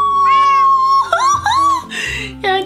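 A cat in Minecraft gives several loud, clear meows in close succession, rising and falling in pitch, with no talking over them.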